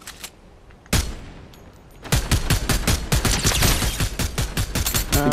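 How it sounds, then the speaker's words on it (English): Rapid automatic gunfire in a Fortnite-style battle game, a single loud shot followed by a long, dense burst of quick repeated shots, close and sharp with no talking over it. "Someone's shooting at me"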